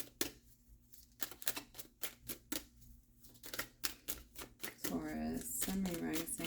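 Tarot cards shuffled in repeated crisp riffling bursts with short pauses between, close and fairly quiet, followed by a few seconds of a person talking.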